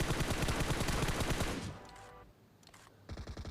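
Gunfire in a battle royale shooter comes as a dense rapid automatic burst for over a second, then a lull, then more quick bursts, loud and close, with no talk over it.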